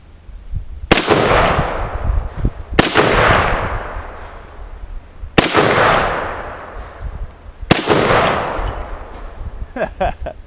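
Four sharp rifle shots from a 1953 Tula-built Russian SKS, evenly spaced a couple of seconds apart, each loud close crack trailing into a long echoing decay outdoors, with faint clicks near the end.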